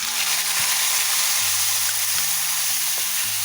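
Loud, steady sizzling of cumin seeds and ground garlic paste frying in hot oil for garlic chutney, continuous throughout with a faint stirring scrape and no voices.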